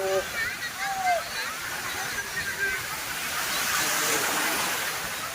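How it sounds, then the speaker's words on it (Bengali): Rushing, sloshing water fills the scene, a steady roar of big breaking waves at Marina Beach, Chennai, swelling louder toward the end, with faint voices and bird-like chirps mixed in. "ও কি ঢেউ আছে, বড় বড় বড় বড় ঢেউ"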